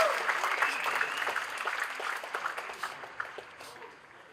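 A live audience applauds to welcome a singer onto the stage at a celebration of another singer's 50 years in playback singing. The applause is steady and dense and fades slightly toward the end.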